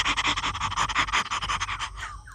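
A person imitates a dog panting, producing a quick, rhythmic series of breathy huffs at close range, steady for about two seconds before tapering off.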